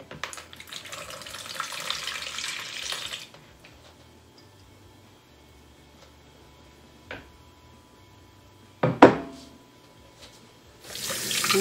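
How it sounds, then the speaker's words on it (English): Running water from a kitchen tap as hands are washed before handling a kombucha SCOBY, a steady hiss for about three seconds, then quiet ticking and a sharp knock, with water starting again at the end. "You need to wash your hands really good with a non-antibacterial soap before handling the SCOBY."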